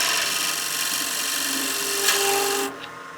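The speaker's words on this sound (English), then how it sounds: "And then we can cut that tenon." A wood lathe spins a piece of wood while a tenon is cut, giving a steady close scraping, rasping drone with faint tonal hums that stops abruptly near the end, leaving a softer motor hum.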